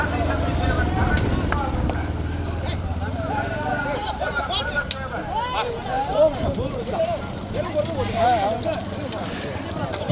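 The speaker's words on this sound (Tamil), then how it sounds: "குதிரை வண்டி" Hooves of a horse-drawn cart clip-clop in an uneven trot, fairly close and steady, mixed with voices talking and calling out over a busy outdoor background.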